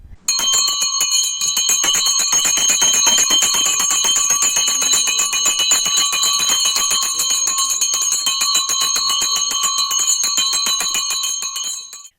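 An electric school bell rings continuously at a last-bell ceremony, a loud, rapid metallic ringing held for about twelve seconds without a break.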